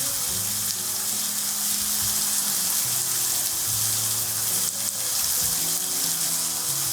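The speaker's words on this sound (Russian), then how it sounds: "Пока грибочки жарятся" Oyster mushrooms fry in a pan with a loud, constant sizzle and crackle close by. Occasional faint stirring sounds come through, and no one speaks.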